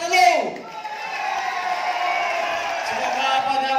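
A band audience claps and cheers for the seniors, a loud crowd swell with whoops at the start that settles into steady applause and murmur.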